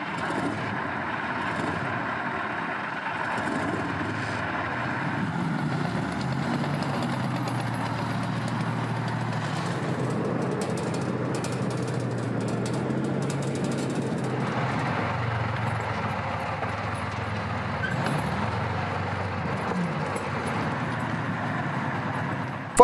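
The 520-horsepower engine of a Soviet IS-3 heavy tank runs at idle as a loud, steady, deep rumble that holds unchanged throughout, with no voices over it.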